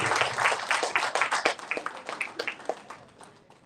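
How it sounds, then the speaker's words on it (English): An audience at a corporate awards ceremony in Gurgaon claps, a burst of applause that starts full and thins into scattered individual claps as it fades away. "Round of clap for Mr. Saurabh from Holy Soul."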